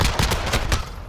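Rapid burst of M19 pistol fire in a video game, several sharp shots in quick succession within about a second, loud and close, with no talk over them.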